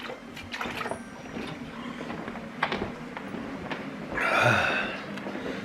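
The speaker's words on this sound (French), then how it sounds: "juste remplir la bouteille d'eau là parce que elle est vide" Water running from a tap into an empty bottle swells into a rushing fill near the end, following scattered knocks and faint household noise.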